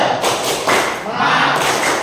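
Students in a vocational high school classroom perform a rhythmic spirit clap, the tepuk semangat. A few loud, close claps sound in quick pattern, mixed with voices chanting along.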